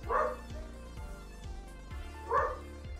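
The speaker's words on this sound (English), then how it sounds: "Why is the dog barking?" A dog barks indoors near a home's front porch, two sharp barks spaced about two seconds apart, fairly close, with no talking.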